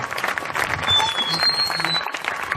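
A church crowd at a nighttime revival crusade in Ebolowa claps and cheers for Jesus, a dense, steady wash of applause with scattered whistles and shouts lasting throughout.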